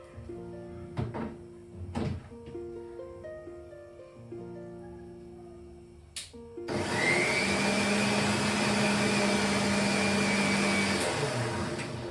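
A mixer grinder blends spinach into a paste, starting with a few clinks and knocks in a quiet kitchen, then a loud steady motor whir that runs for several seconds.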